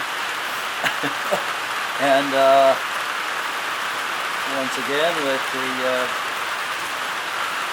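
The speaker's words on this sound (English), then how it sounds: "It's another rainy, cold, windy morning" Steady rain patters continuously on a cold, windy morning while someone talks over it at close range.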